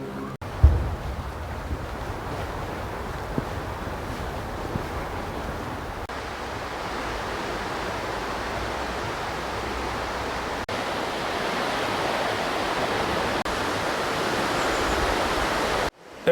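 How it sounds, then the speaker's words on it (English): A river flows near Tip Toe Falls in a redwood forest, producing a steady broadband rush of water that stays close and constant throughout. "this is what you hear. The sound of this river here"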